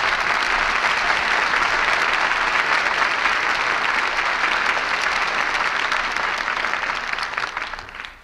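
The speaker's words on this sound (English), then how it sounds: "And we all join in applauding the artists who brought us this play tonight." Studio audience applauding at the close of a Lux Radio Theatre broadcast of the drama Jezebel, a loud, sustained wall of clapping that keeps up throughout and thins out only in the final second.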